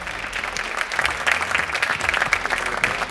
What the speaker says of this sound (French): Sous vos applaudissements, évidemment.